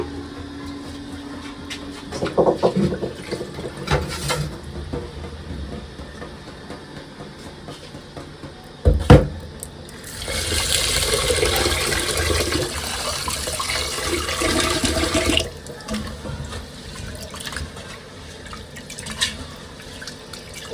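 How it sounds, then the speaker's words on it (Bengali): Rice being washed in water for an iftar and sehri meal, with sloshing and running-water sounds that swell into a steady rush in the middle before easing back to scattered drips and splashes; no one talks. "চাউলটা ধুয়ে নিব"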